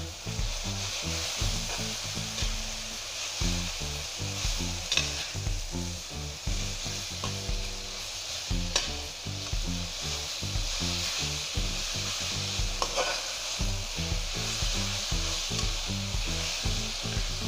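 Water spinach and tauco (fermented soybean paste) sizzling loudly in a pan while being stirred, a constant hiss with rhythmic scraping strokes and no talking.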